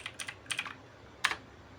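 Quick keystrokes on a computer keyboard as a graphics card model name is typed, in three short clustered bursts, close and fairly quiet with no talking.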